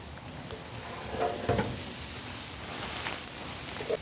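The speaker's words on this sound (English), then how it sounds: "we're going to open it up and then flip the tenderloins." Pork tenderloins sizzle on an opened Hasty Bake charcoal grill as they are flipped, a soft, steady hiss broken by a few brief clanks and bumps from the tongs and grate.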